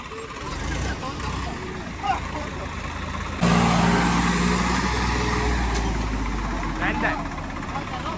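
Two Swaraj tractors, a 2023 and a 2024 model of the same horsepower, one on Goodyear and one on MRF tyres, strain against each other in a tug-of-war, engines droning loudly and roughly, growing louder midway, with a crowd and voices heard over them.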